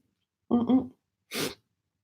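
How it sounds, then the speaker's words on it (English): A voiced sound, then after a short pause a single sharp, breathy sneeze, close and fairly loud. "I need to sneeze"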